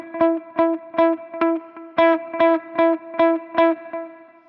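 Distorted electric guitar chugging a repeated five-note rhythmic pattern, loud and close, each stroke punchy with a short gap between groups.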